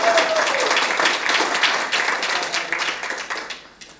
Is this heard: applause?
yes